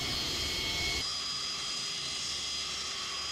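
Boeing 727 jet engines in the FSS Super 727 flight simulator game produce a faint, steady whine and hiss that drops slightly in strength after the first second and then continues evenly, with no talking.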